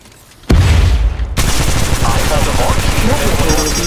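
A burst of loud gunfire in Apex Legends Mobile, a sharp onset followed by sustained rapid shots with a brief break, and game voice callouts mixed underneath.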